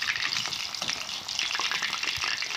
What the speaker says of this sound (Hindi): अच्छी तरीके से फ्राई हो रही है।